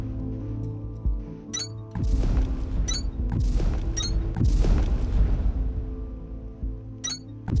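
A string of deep booming explosions in a video game, Techtonica, rolling one into another, with short high chirps sounding at intervals over the rumble.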